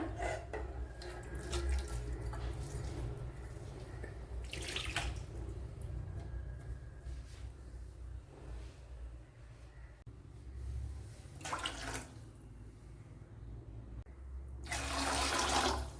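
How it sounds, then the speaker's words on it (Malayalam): Water pours and splashes in a few separate bursts, about three glasses, close by, with a steady low hum underneath. "ഒരു 3 ഗ്ലാസ് വെള്ളം ഒഴിച്ചു കൊടുത്തിട്ടുണ്ട്"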